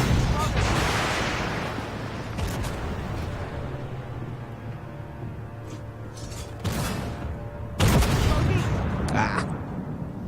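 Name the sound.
tank cannon firing in the video game Armored Warfare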